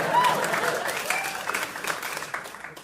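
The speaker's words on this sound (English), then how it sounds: "I'll hold for applause." Applause from a live audience during a comedy performance, steady and fairly dense clapping that gradually thins out, with a few voices murmuring underneath.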